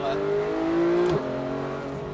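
A Porsche 911 GT3 accelerates on a race circuit at Grand Sambuc near Aix-en-Provence, its engine note climbing steadily and then dropping briefly at a gear change before pulling on, loud and close.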